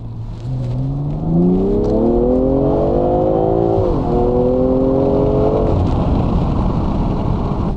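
BMW M340i accelerating hard, engine note climbing steadily and loud with a brief dip as it shifts, under heavy wind noise, close to the car.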